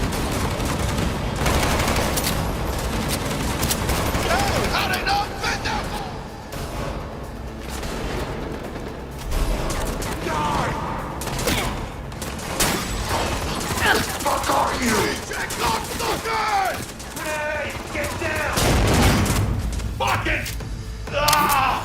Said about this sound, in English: This allows players to bounce bullets off walls and hit enemies hiding behind cover.